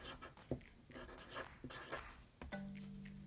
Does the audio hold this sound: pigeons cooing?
no